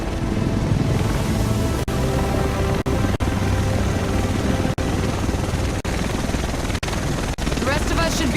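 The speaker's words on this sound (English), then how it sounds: "The rest of us should be in this chopper." A helicopter in the video game Tom Clancy's The Division roars loud and close with a constant rotor drone, while people talk over it.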